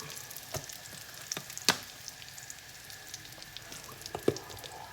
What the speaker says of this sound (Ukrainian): Ми зробили зажарку, цибулька, морква і трошки муки і олійки.